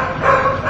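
A dog at the Knesset guard kennel gives a single short bark, close and loud, with no voices.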